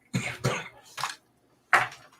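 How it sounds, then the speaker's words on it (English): Four short, harsh coughs, the first two close together, then one more, and after a pause a final louder cough, with no talking. "Don't cough on me"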